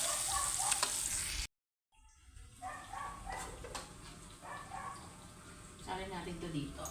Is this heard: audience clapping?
no